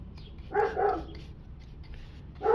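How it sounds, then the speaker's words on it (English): Dogs bark in the background in a short burst of two quick barks, a pause, then another bark, moderately loud and somewhat distant. "And there's dogs in the back,"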